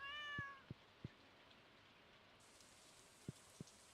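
Rain falling in Stardew Valley, a soft steady hiss throughout, with a brief cat meow at the start and a few faint clicks scattered over it.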